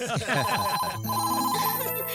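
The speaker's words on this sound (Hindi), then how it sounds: "मुझे पक्का पता है, ये सनी भैया का फोन है।" A telephone rings in a Hindi action film scene, with repeated electronic ring tones over background music and a voice.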